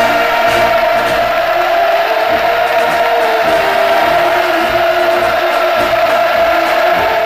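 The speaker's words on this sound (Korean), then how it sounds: "환호성 터졌습니다." A large crowd at Rungna People's Pleasure Ground in Pyongyang roars in loud, sustained cheering for Kim Jong Un, with a dense, unbroken wall of voices lasting throughout.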